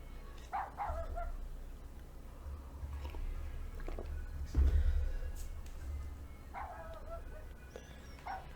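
Dog barking in the survival horror game Rule of Rose, a few sharp barks and yips spaced across the stretch over a low rumbling game ambience, fairly close and moderately loud.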